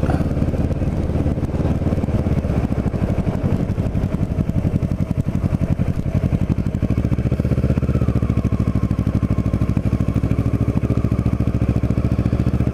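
A Kawasaki Ninja 650R motorcycle is ridden through North Cape May, its engine droning steadily and loudly up close, with a buzzy rhythmic pulse and no talking.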